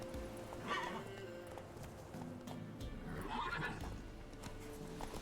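Roach the horse in The Witcher 3 whinnies twice, with hoof clip-clops beneath, amid game background sound and no talk over the calls.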